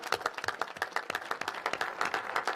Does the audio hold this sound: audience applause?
yes